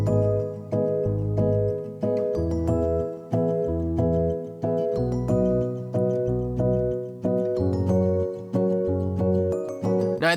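Bell melody in a Studio One beat, a bright tinkling pattern of repeated notes over a steady pulsing bass, looping evenly throughout with no voices.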